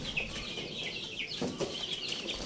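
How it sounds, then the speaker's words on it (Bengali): Young chickens clucking and cheeping in a steady, close chorus as they are moved one by one into a new rooftop cage, with faint wing flaps and rustling throughout. "মুরগির বাচ্চাগুলোকে একে একে খাঁচার ভিতর প্রবেশ করিয়ে দিলাম"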